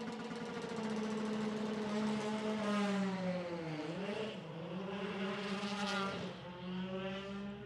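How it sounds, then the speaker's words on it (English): A BTCC race car engine roars steadily during free practice at Snetterton in 2024, its pitch sweeping down and back up as it passes, loud and continuous with no talking. "hear that distinctive engine tone"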